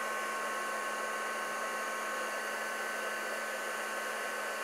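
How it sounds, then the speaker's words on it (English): Heat tool warming up to melt embossing powder, a steady, even blowing whir with a faint high hum, constant and uninterrupted, no voices. "it just takes a few seconds for your heat tool to warm up and it'll melt that powder"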